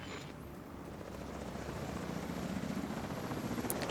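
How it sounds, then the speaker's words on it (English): A helicopter in a video game flies overhead as a steady, low rotor rumble that slowly grows louder over a few seconds, with no voices. "has a visual on an unknown helo headed east over the Potomac"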